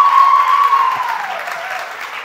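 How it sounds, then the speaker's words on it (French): Audience applause for Nelson at a live comedy stage show, a steady wash of clapping that starts strong and slowly fades over a couple of seconds, with no voices over it. "Est-ce qu'on peut applaudir Nelson, s'il vous plaît"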